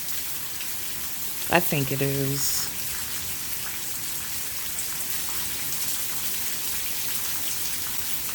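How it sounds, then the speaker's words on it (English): Steady rain falling during a stormy night, a dense even hiss of drops on surfaces throughout, with a brief spoken remark near the start. "Isn't it relaxing just watching the rain fall and listening to it?"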